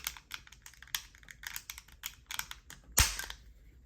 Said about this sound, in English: Now I need to install the cover. Push it until you hear the click.